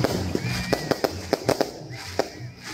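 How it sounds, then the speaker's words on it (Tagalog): Fireworks pop at a bamboo Christmas belen display in Pura, Tarlac, a string of sharp cracks and bursts spaced irregularly over a steady crowd murmur and background hum. "At aba, mayroon pang pa-fireworks."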